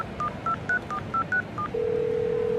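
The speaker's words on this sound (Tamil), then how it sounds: "தோனி ஈஸ்ட் ஜோன் செலக்டர் ஆஃபீஸ்க்கு ஃபோன் பண்ணி விஷயத்த சொல்லு" A telephone number is dialed as a run of seven short keypad tones in an even rhythm, followed by a steady ringing tone over a dull hum in the background.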